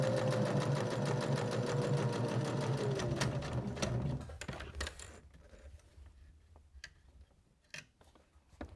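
A sewing machine runs fast and steadily, stitching around layered fabric for a small scissor holder, then stops, leaving a few faint clicks and handling taps.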